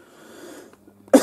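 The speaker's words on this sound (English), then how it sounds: "Just a bit of a cough there for some reason" A single sharp, loud cough bursts out near the end after a quiet stretch, close to the microphone.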